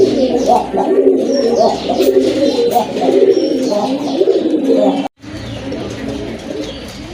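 A pair of large brown-necked (khoyra gola) pigeons coo steadily and close by, a dense overlapping chorus of throaty coos with no talking, broken by a brief silence near the end before the cooing resumes.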